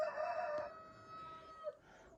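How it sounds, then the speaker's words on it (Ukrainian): A rooster crows in a long, drawn-out call, loud and fairly close, fading off toward the end with a quieter background. "вже мої півні верещать, просяться на прогулянку"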